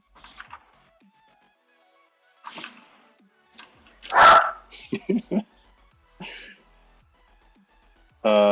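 A dog barks a few times indoors at a home workbench while a MAME arcade cabinet gets a new sound system: one sharp, loud bark, then a quick cluster of shorter yaps, with softer knocks and rustles around them.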